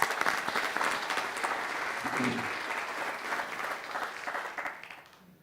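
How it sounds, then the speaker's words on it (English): A seminar audience applauds volunteers at an opening session, with a burst of dense clapping from a crowd that holds steady for several seconds before tapering off, along with a few faint voices underneath. "Give a round of applause for them."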